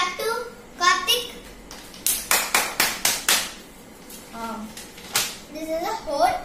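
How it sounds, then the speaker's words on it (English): Children speak briefly, then a run of about six sharp claps rings out in steady rhythm, followed by more children's voices. "Clap to Kartik."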